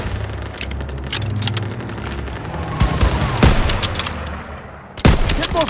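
Call of Duty WWII battle gunfire: rapid bursts of rifle and machine-gun shots crack repeatedly, loud and close, over a rumbling backdrop of combat noise.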